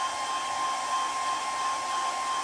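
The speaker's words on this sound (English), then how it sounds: "And now I'm going to just try and dry this off quickly." A hair dryer blowing steadily on a wooden sycamore bowl, a continuous close whir with a high steady tone and no talk.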